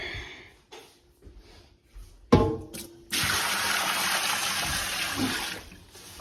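Water gushes loudly and steadily from a tap into a tub after a few clunks and knocks, the rushing flow holding strong and close for several seconds.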